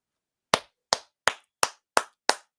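Hands clap six times in a steady, evenly spaced rhythm, each clap sharp and close with a quick decay into silence.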